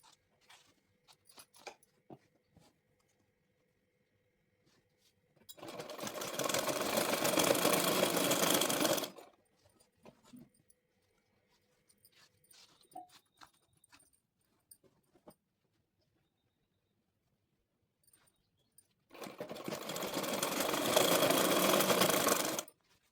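Sewing machine stitching palazzo pants alongside the elastic, two loud sustained bursts of rapid stitching a few seconds each, separated by quiet handling noises.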